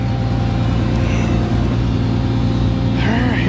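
A farm tractor used for planting corn runs loud and close, its steady throbbing engine drone holding constant throughout with no break.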